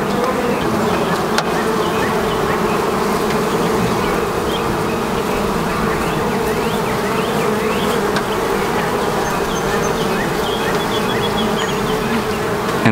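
Honey bees swarm around open hives after a hive split, a loud, dense, continuous drone of buzzing wings close by throughout, with no talking.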